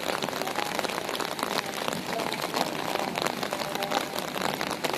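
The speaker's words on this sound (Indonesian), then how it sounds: "Hujannya lebat." Heavy rain pours steadily onto an outdoor event area with no roof cover yet, a dense, constant hiss and patter close by with no letup.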